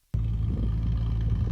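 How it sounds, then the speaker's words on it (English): Deep, steady V8 exhaust rumble through GTI mufflers, starting abruptly after a brief silence and holding a loud, even low-pitched drone at idle with no talking. "let's check out a few videos of this exhaust you got"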